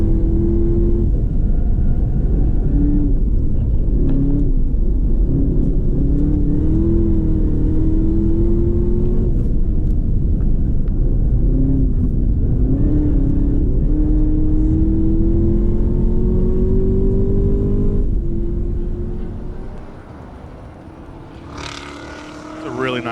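A Chevrolet Corvette Z06 race car taking turn 7 at New Jersey Motorsports Park during a time attack event, its loud engine droning and rising in pitch under a commentator's voice, then fading away near the end.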